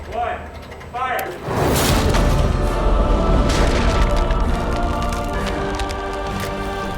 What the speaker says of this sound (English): our T-Rex stand-in is driven by a customized motor, generating roughly the same power as a T-Rex's jaw